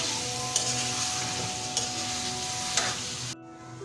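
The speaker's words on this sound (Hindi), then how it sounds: "चिकन हमारे फ्राई हो रही है" Chicken frying in a pan with ginger garlic paste and tomatoes, a steady close sizzle with a few sharp stirring clacks, ending abruptly.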